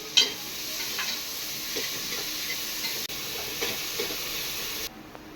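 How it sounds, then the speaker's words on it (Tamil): Onions sauté with salt in a pan for egg biryani, giving a steady soft sizzle and hiss with a few light stirring scrapes, fairly quiet and unaccompanied by speech. "வெங்காயம் வதங்குறதுக்கு உப்பு போட்டுக்கோ நல்லா வெங்காயம் மொறு மொறு வேகணும்"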